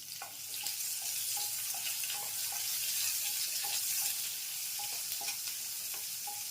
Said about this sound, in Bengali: আমাদের উচ্ছে ভাজা হয়ে গেছে